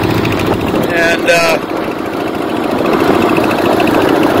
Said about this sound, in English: go for a ride in the sidecar.